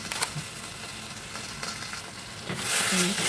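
Meat for sinigang, seasoned with salt, sizzles in a pan while being stirred with scraping strokes, the frying hiss swelling louder toward the end.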